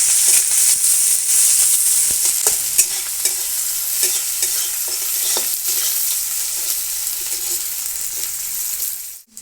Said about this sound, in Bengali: পেঁয়াজটা দিয়ে দিচ্ছি পেঁয়াজটা একটু ভেজে নেবো